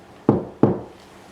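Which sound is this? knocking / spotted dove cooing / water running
knocking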